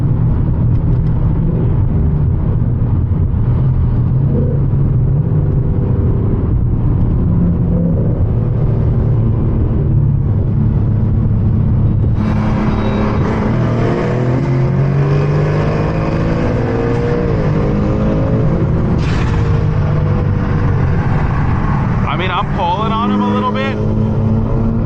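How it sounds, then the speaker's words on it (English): A turbocharged built JDM car racing alongside a Ford Mustang S650 V8, engines roaring loudly and steadily with a sharper turbo whine and rising rev sweeps joining in halfway through. "I'm gonna tell him to go on my left so you guys can hear the turbo noises."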